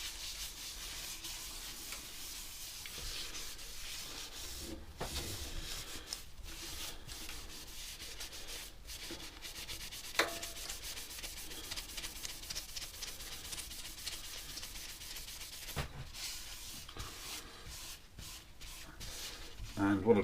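Sanding sealer rubbed by hand onto a turned oak box on the lathe, a steady close friction and rubbing noise that runs throughout with small irregular scuffs and a brief louder knock near the end.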